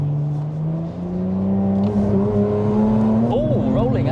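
A 500bhp BMW N54 135i rear-wheel-drive car's engine drones and revs loudly, with sharp pops and crackles from the anti-lag breaking through near the end.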